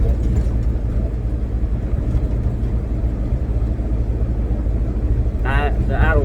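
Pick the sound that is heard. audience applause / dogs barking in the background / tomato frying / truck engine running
truck engine running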